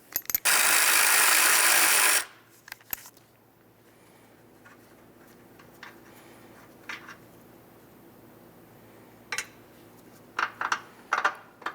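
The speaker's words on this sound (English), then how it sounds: "We're going to go ahead and remove the 15mm nut that holds the first wire on" Close-up ratchet work on a 15mm nut holding a battery wire on a Dodge Journey: a burst of rapid clicking at the start, then a quiet stretch with scattered metallic clicks and taps, and a few sharp ratcheting bursts near the end.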